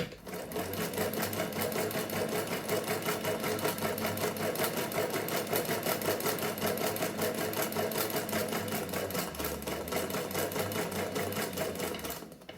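A sewing machine stitching a seam on a fabric bowl cover runs a continuous, fast mechanical whirr with a steady rhythm, close and moderately loud, and nobody speaks.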